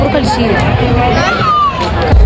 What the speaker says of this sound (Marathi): पायऱ्यांपासून लाईन लागली डायरेक्ट आवरी गर्दी.